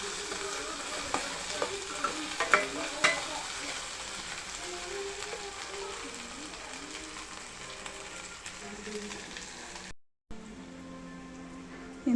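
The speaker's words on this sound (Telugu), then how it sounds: "అల్లం వెల్లుల్లి పేస్ట్ పచ్చి వాసన పోయేంత వరకు ఫ్రై చేసుకోవాలి" Ginger garlic paste fries with onions in a pan for a curry, giving a continuous close hiss of oil with occasional light stirring clicks and a brief dropout near the end.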